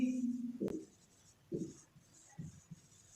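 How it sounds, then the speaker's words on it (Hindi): Marker or chalk writing on a classroom board in a spoken English lesson, a few short scratchy strokes in separate bursts, close and fairly quiet. "मैं यहाँ पे लिखता हूं।"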